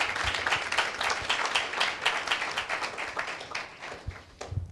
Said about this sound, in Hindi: एक जोरदार ताली प्रभु यीशु मसीह के नाम पर दे दिया